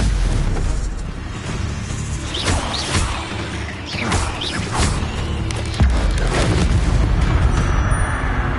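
Stupefy spell impacts in the Hogwarts Legacy video game: loud booming blasts and whooshing crashes repeat through dense, continuous combat noise.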